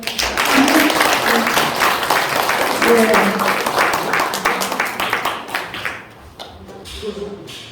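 An audience claps steadily and fairly loudly at a poetry day ceremony held by a poets' association, the applause tapering off toward the end.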